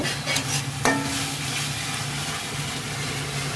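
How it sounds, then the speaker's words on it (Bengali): Garlic and onion paste with spices being stir-fried in a pan for fish curry, giving a steady close sizzle with stirring scrapes and one sharp clink near the start. "মশলাগুলো দেওয়ার পরে ভালো করে নেড়েচেড়ে কষিয়ে নিব।"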